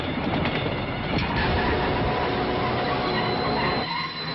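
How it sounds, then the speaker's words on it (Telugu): Visakha Express train pulling away from platform 3, a loud, close, continuous rolling rumble and rattle of wheels and cars that holds steady for about four seconds before easing slightly at the end, with no voices. "3వ ప్లాట్ఫామ్ మీద నుంచి బయలుదేరిన విశాఖ ఎక్స్ప్రెస్"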